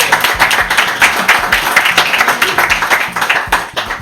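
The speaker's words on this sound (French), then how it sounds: "Applaudissements pour eux s'il vous plaît." Applause from the audience at a live magic show as two spectators are called up to the stage, a dense steady patter of clapping that fills the room for a few seconds with faint voices beneath.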